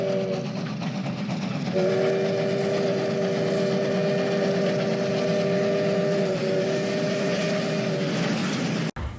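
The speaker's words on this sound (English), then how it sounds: "Our next locomotive is California Western number 45, a 282 Mikado built by Baldwin in 1924." California Western No. 45, a Baldwin 2-8-2 Mikado steam locomotive built in 1924, sounds a loud, sustained chime whistle over a low rumble for several seconds before it cuts off abruptly.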